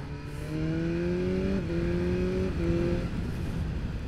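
A BMW S1000R motorcycle of 205 kg and 165 hp is ridden on a wet road, its engine note rising in pitch with each gear before briefly dropping at the shifts.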